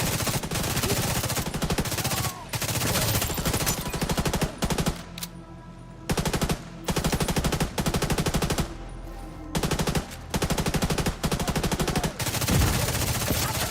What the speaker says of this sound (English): Firing at hostiles!